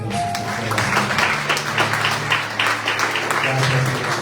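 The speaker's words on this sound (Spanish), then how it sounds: "Den un aplauso a Dios." A church congregation applauds during a Sunday service, with a moderate wash of clapping and a voice speaking over it.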